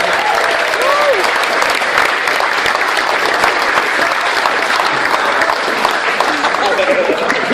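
A school leavers' assembly audience gives a loud, sustained round of applause for an award winner, continuous dense clapping with some voices over it.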